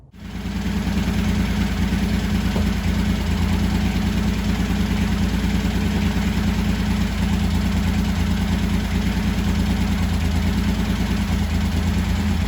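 A 1985 Honda VT1100 Shadow motorcycle engine, running for the first time in 25 years, idles loud and close with a steady, throbbing, even rhythm after starting up.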